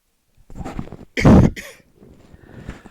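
A man coughs hard once, close to the microphone, with softer throat-clearing and breathing sounds before and after it.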